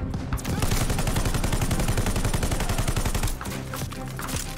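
Rapid, loud machine gun fire from a Call of Duty Vanguard firefight, a steady stream of close rattling bursts that briefly eases near the end.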